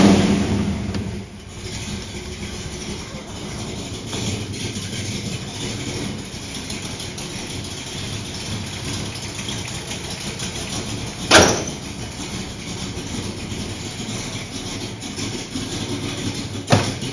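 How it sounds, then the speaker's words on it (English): A muscle car engine idles with a steady, even rumble that stays at one level throughout, broken only by a single sharp click partway through. "It has that muscle car idle"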